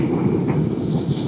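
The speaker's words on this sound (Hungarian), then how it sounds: "És akkor megyen az ócska vonat is." An old train rolls past close by as a steady, loud low rumble, with broadband wheel and rail noise holding throughout and no talk.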